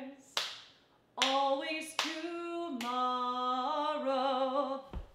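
Sharp hand claps keep a rhythm along with a sung performance of a song in a family music lesson, several crisp claps standing out over a clear singing voice.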